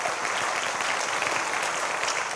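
Worshippers at a Sunday service clap together in praise, a thick, continuous wash of hand claps from a large congregation, loud and unbroken.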